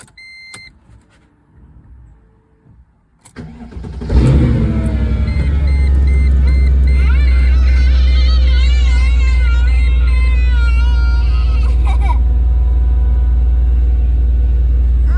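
A Mercedes C55 AMG with a six-speed manual cranks and fires up after a short quiet pause with a faint beep, then settles into a loud, steady, deep idle rumble close by, with no talk.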